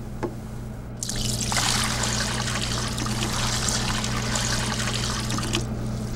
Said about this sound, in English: pour water up to about 2 inches from the top of the bowl